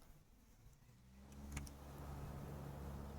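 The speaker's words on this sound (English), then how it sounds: "Apologies for the loud traffic outside." Steady road traffic rumbles outside a room, a loud low drone of passing vehicles that swells after the first second and holds, with a brief sharp click near the middle.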